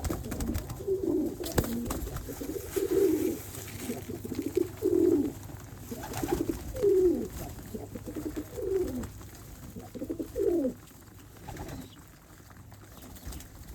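Pigeons kept in a loft coo nearby in a steady rhythm of about six soft, throaty calls spaced a couple of seconds apart, over a faint low hum.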